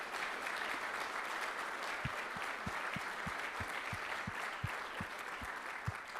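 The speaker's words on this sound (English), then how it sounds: "invite a round of applause for Mags, for Billy, for Brian, and for all the great team" Audience at the Labour Party conference applauds in a steady, broad round of clapping heard from within the hall, with faint rhythmic thumps underneath.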